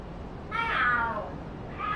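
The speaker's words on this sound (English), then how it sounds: "The hell? Are there cats fighting?" A cat yowls once with a drawn-out, rising-and-falling caterwaul over steady background noise, part of a cat fight in the video game Lost Judgment.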